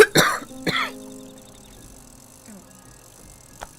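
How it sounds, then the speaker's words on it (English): A person coughs twice in quick, harsh bursts near the mic over a quiet, steady game-music background, followed by faint tones and a small click. "Please excuse my cough."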